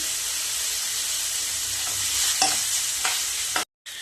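Chopped onions fry with a spoon of garlic ginger paste in a pan for pasta, giving a continuous close sizzle with stirring scrapes, briefly cutting out near the end.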